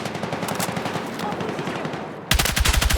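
Automatic gunfire in Battlefield 6 during a combat mission, rapid dense bursts that continue and then sharpen into louder, closer shots near the end.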